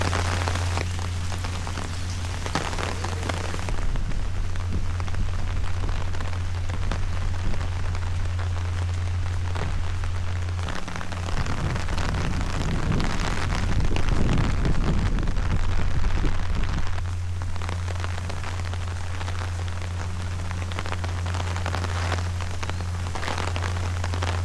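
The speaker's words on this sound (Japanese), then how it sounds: "激しい雨でした。" Heavy rain pours down outdoors at a seaside hotel in Shimoda, Japan, during the Kawazu cherry blossom season: a loud, continuous rushing hiss that swells toward the middle, with a low steady hum beneath and no talking.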